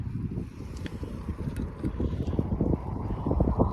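Strong wind blowing outdoors in the Scottish wilds, a steady low roar and buffeting gusts across the microphone that build slightly toward the end, with no talk.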